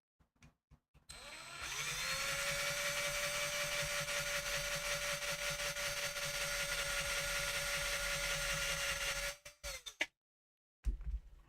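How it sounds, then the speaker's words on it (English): A drill bores freehand into a small Hot Wheels die-cast car, its motor winding up into a steady, close whine that holds for about eight seconds before cutting out, with a few light handling knocks around it and no speech. "they mark their drill bit so they know how deep they need to drill"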